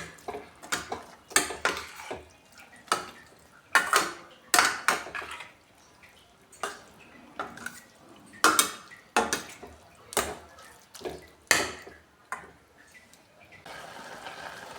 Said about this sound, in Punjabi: ਇਸ ਕਰਕੇ ਇਹਨੂੰ ਹਿਲਾ ਕੇ ਹੀ ਅਸੀਂ ਹੁਣ ਪਕਾਣਾ ਆ